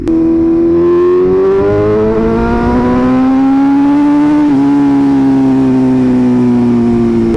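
A BMW M1000RR motorcycle with a loud aftermarket exhaust screams at high revs, climbing steadily, then takes a sharp blip at a downshift before the pitch settles. It is very loud and close throughout, with no talk.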